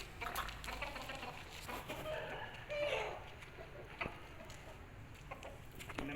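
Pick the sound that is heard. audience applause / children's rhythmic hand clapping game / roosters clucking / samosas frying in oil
roosters clucking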